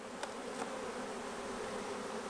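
Honey bees, mostly nurse bees, hum in a steady, close, even drone filling a small hive box, with a couple of faint clicks near the start.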